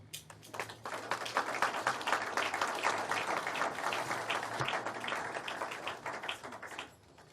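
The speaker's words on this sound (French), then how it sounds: "Acclamation." An audience applauds at an award event for a Pan-African prize, a dense, steady wash of many hands clapping loudly for about seven seconds before cutting off abruptly near the end.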